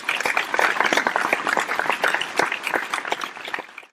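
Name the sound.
audience clapping for a child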